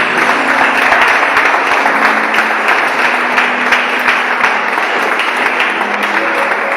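Steady applause from a church congregation fills the space, dense and sustained from start to finish with no voices standing out above it.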